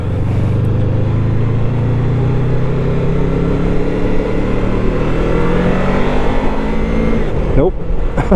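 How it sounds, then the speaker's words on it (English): A Honda VFR800FE motorcycle engine drones steadily while riding, its pitch climbing under throttle, with a brief dip near the end as the rider changes gear on the quick shifter; wind rush stays loud throughout. "I'm still throttling off before I change gear on the quick shifter, that's why it's jerking forward."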